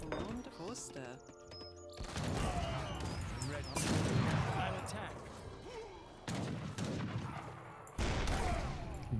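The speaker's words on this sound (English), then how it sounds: "Yeah, we have a heavy cannon now." Heavy cannon artillery fire from the Age of Empires III: Definitive Edition strategy game, a series of loud booming blasts arriving in several bursts over battle noise, with someone talking under the gameplay.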